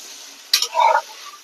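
A splash of water goes into frying spice masala for egg bhuna, giving a sudden close hiss and bubbling sizzle that swells for about half a second and then fades back to a low steady frying.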